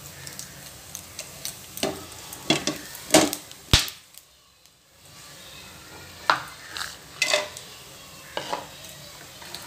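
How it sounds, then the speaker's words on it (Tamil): Whole spices frying in a hot pan for coconut milk rice, heard as a soft sizzle broken by sharp utensil scrapes and clinks against the pan, with a brief quiet gap midway. "எல்லாமே ஸ்பைசஸ்லாம் ஃப்ரை பண்ணிக்கலாம்"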